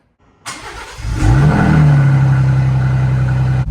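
A Ford Bronco on oversized wheels and tires starts moving out of a garage, its engine rising from quiet to a loud, steady drone that holds close and continuous for several seconds.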